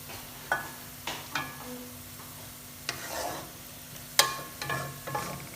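Onions fry in hot oil in a pan for chicken korma, with a steady low sizzle broken by repeated clinks and scrapes of a spoon stirring, close and fairly quiet.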